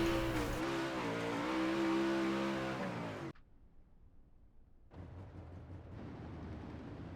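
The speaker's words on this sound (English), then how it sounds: "pulling that car back onto pit road" A UMP modified race car roars past on the Charlotte dirt track, its engine loud and rising in pitch before cutting off abruptly, followed by a quieter rumble and a more distant engine returning.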